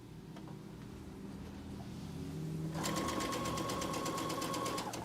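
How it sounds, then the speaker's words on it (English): Sewing machine stitching the blades of a Dresden Plate quilt block, a steady loud mechanical whir with rapid needle rhythm starting partway through over a low background hum. "do the sewing for one set of the Dresden Plate blades"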